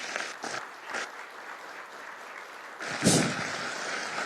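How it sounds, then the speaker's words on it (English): Audience applause at a chamber of commerce breakfast meeting, a steady wash of clapping that holds for several seconds and swells briefly near the end, with no voices over it. "You give him a round of applause."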